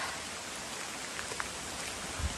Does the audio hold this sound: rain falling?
yes